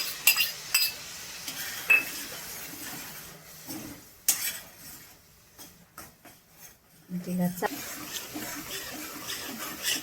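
Cooking utensils clink against a pan as onion and tomato puree go in for palak paneer. Metal taps and scrapes come in scattered clusters, some sharp and close, with quieter stirring between.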